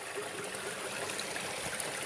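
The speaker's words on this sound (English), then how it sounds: "this water coming out of the sky today, this light rain" Light rain falls on a wooded hillside hiking trail at Hanover College, a soft, steady hiss that runs evenly throughout with no talk.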